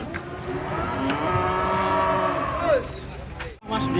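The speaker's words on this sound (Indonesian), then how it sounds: "Kedatangan sapi raksasa." Giant cattle being unloaded from a truck moo in long, low drawn-out calls amid outdoor noise and engine rumble, with a brief sharp scrape near the end.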